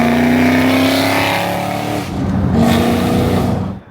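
A loud 600 hp Chevrolet Camaro SS roars as it accelerates hard on Miami streets, its engine note a steady, close, continuous blare that dips briefly before rising again.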